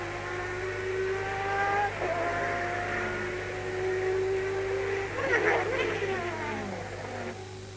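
The turbocharged Peugeot 905 sports prototype races at Le Mans in 1991, its engine screaming at high pitch and sweeping up and down in pitch as it passes, with a second surge of revving near the end over a constant background hum.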